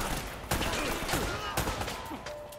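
Gunfire in the video game Uncharted: Drake's Fortune, several sharp shots spaced across a few seconds over busy game sound effects and music, with no talk.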